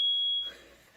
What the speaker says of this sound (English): He's simulating a fire alarm